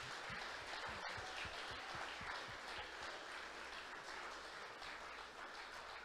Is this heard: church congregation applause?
yes